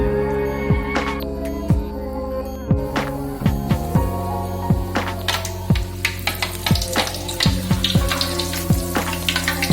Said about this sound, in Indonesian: Tahap selanjutnya yaitu kita akan goreng. Ini yaitu minyak yang sudah dipanaskan.